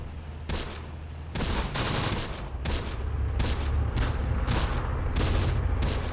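Mortar and rifle fire in the Close Combat war game: a busy fusillade of sharp, repeated gunshot cracks and booms, loud and continuous after a brief lull.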